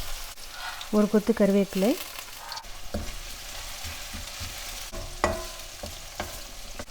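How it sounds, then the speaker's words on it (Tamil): Onion and curry leaves fry in oil in a pan for a bitter gourd curry, a soft continuous sizzle with occasional stirring knocks, close but fairly quiet, while someone speaks briefly near the start. "ஆனியனை நல்லா வதக்கிடலாம் ஆயில்லையே."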